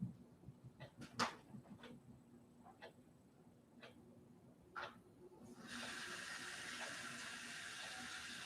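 Water runs from a tap into a container for painting, starting suddenly after a few light clicks and handling noises and then flowing as a steady, close, moderately loud rush.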